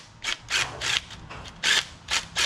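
Several short mechanical whirring bursts from T30 Torx bolts being spun out of a plastic oil pan, about seven quick pulses in irregular rhythm, close and fairly loud with no talking.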